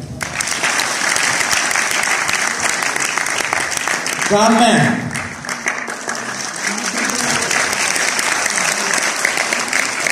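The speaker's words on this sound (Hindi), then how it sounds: "इस शो के लिए एक तालियां।" An audience applauds after a stage drama performance of Heer Waris Shah, with dense, sustained clapping across the whole stretch and a brief voice breaking through near the middle.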